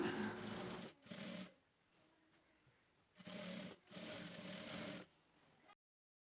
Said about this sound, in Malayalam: ഒരു പ്രസർ അകലത്തിൽ നമുക്കത് സ്റ്റിച്ച് ചെയ്തെടുക്കാം